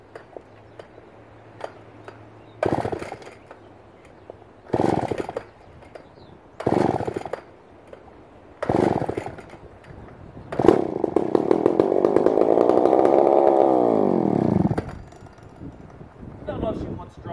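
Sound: McCulloch 550 chainsaw engine starting

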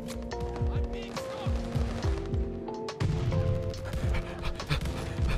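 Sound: attack dog panting and running in a video game (Call of Duty)

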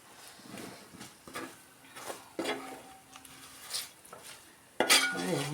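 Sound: stirring fish pickle mixture with chilli powder

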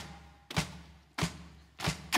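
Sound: people stomping their feet loudly

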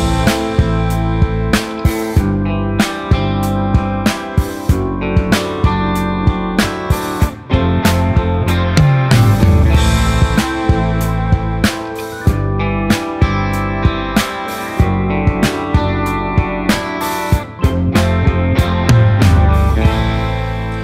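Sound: drums from BFD Player free drum plugin

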